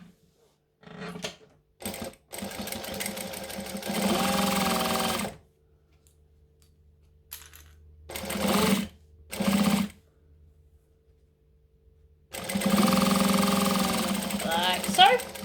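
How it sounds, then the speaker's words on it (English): A sewing machine stitches fabric in several loud mechanical bursts, a fast rattling hum that starts and stops as back stitches are sewn at a corner of a Sugar & Spice project, with short pauses and speech between runs. "we're going to back stitch in that corner as well"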